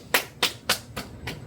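Five hard, sharp hand claps in an even rhythm, close and crisp with quiet gaps between each.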